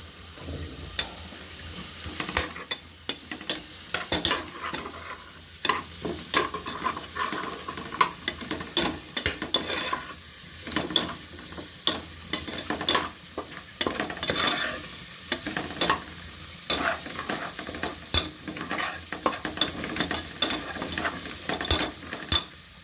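Onions and green chillies sauté in hot oil for vegetable biryani, with a steady sizzle broken by repeated scraping stirs of a spoon against the pan throughout.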